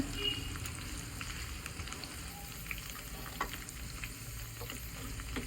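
Potatoes fry in oil in a pan while being stirred, a continuous close sizzle broken by occasional scraping and clicks from the spoon.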